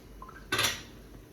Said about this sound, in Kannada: ಇವಾಗ ಅದು ಕುದೀತಾ ಇದೆ. ಇವಾಗ ಇದಕ್ಕೆ ರೈಸ್ ಹಾಕೋಣ.